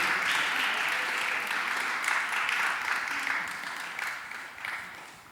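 Enthusiastic audience applause welcoming guests at a religious question-and-answer gathering, loud and sustained clapping from a crowd that tapers off toward the end.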